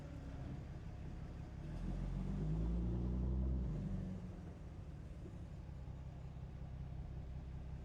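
A Dodge Cummins pickup with a limp-mode fault backs up in reverse, its diesel engine a low, steady rumble that swells briefly and then settles back to a constant drone, heard close with no talk.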